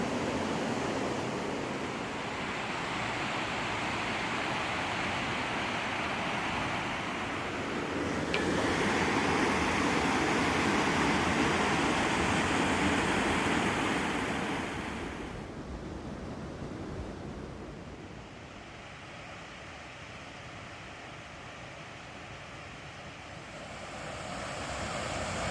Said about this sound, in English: You can hear the freeway, see the freeway.